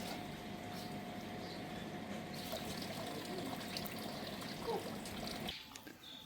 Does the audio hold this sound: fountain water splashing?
yes